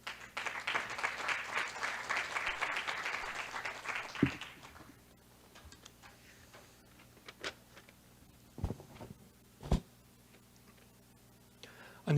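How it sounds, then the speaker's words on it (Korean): Audience applause welcoming the society president to open an AI forum seminar, a crowd clapping for about four seconds before stopping abruptly, then a quiet room with a few scattered knocks and shuffles. "큰 박수로 모시겠습니다."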